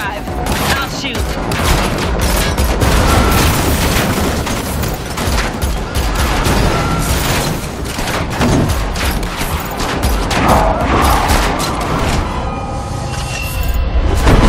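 Dense gunfire rattles through a car chase in The Matrix Awakens, loud rapid bursts and booms layered over engine roar and crashes, with voices under the shooting.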